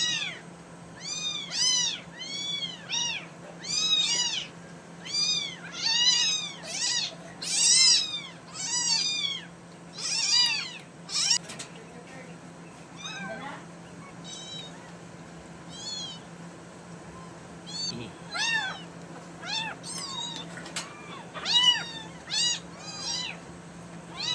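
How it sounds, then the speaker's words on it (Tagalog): A hungry rescued cat meows over and over in rapid, insistent bursts, loud and close, with a steady low hum underneath and no talking. "So yung isang na-rescue ko na pusa guys, gutom na gutom siya guys."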